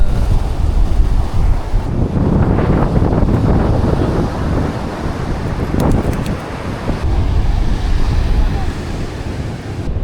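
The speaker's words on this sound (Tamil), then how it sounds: "காற்றோட வேகம் ரொம்பவே பயங்கரமாக இருக்குங்க." Strong wind roaring at the seashore where fishermen work with traditional nets, a loud buffeting rush over the microphone mixed with surf, steady throughout with brief dips.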